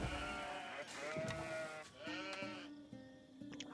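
Several sheep bleat in Age of Empires IV, wavering calls overlapping one after another at close range over a steady game background, with no talk.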